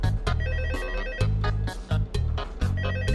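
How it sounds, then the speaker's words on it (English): Telephone ringing in Five Nights at Freddy's 2, a repeating electronic ring in steady bursts, loud and close with no talk over it. "Sorry, I got a phone call."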